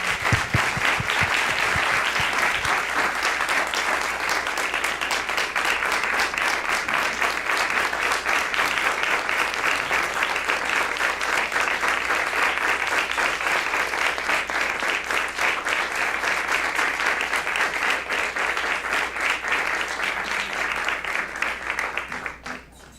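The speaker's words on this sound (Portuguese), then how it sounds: "E uma salva de palmas" An audience gives a long tribute ovation at a Latin American dance education event, with steady, dense clapping from a large room that continues unbroken for over twenty seconds before tapering off abruptly.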